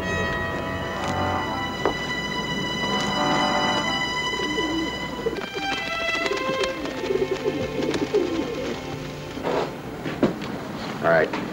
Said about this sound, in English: Stay away from those pigeons,